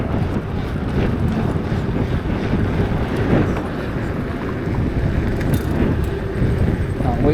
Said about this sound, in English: Pretty nice wind tonight.